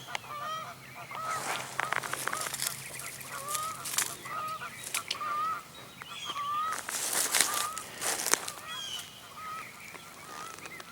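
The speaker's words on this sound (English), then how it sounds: "Got Canadian geese in the background." Canada geese honk repeatedly in the background outdoors in South Mississippi, a scattered series of nasal calls, some overlapping in bursts, moderately distant and fairly faint.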